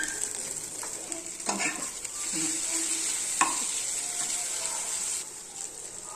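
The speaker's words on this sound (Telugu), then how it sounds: "మనం ఇందులో మ్యాగీ నూడిల్స్ వేసేద్దాము." Maggi noodles tossed into a hot pan with spiced egg and stirred, a steady frying sizzle with scraping stirs and small clatters, close and alone with no talking.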